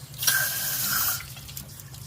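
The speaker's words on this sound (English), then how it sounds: "plunge it under some cold water" Running water pours from a tap onto a hot steel cartridge case being quenched, a steady rush with a faint hiss, fairly close, lasting about a second before trailing off.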